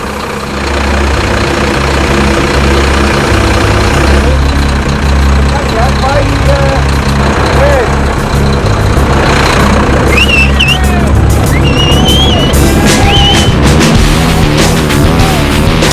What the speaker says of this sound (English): once you hear a truck coming, particularly if it's maybe one of your teammates, you need to grab them.